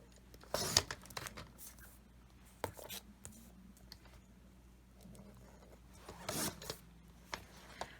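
Small photo prints are trimmed at a craft table: soft scraping and rustling paper sounds, with a few sharper cutting strokes near the start and again toward the end, quiet and close.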